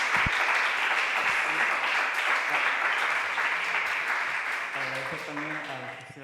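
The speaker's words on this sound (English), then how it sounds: "Please, an applause for them." Audience applause for panel guests at a San Sebastian Festival talk on LGBTIQ+ cinema: dense, steady clapping that holds loud for several seconds, then thins and fades as a voice begins speaking near the end.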